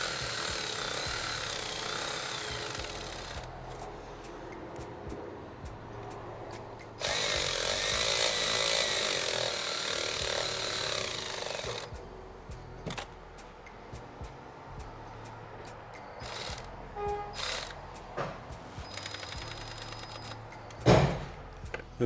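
Small ratchet or power-tool work snugs down 10mm timing cover bolts on a 2018 Honda Accord 1.5L turbo engine. Bursts of whirring are interspersed with clicks, scrapes and metallic taps, close up but fairly quiet.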